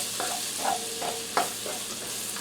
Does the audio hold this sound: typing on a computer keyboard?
no